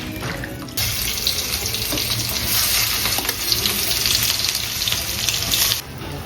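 Water pours steadily into a cooking pot for dal with onion, a close continuous splashing gush lasting several seconds before stopping, with no talking.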